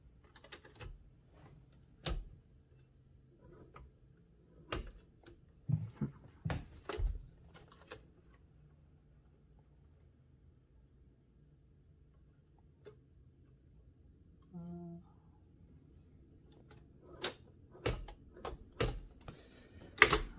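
Sparse, sharp keystrikes from a 1914-1922 Empire No. 2 thrust action typewriter, isolated clacks and short bursts with long quiet gaps between them, close and fairly soft in a quiet room.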